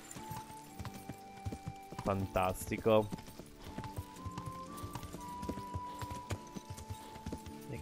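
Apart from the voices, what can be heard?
horse hooves clip-clop in video game Kingdom Come: Deliverance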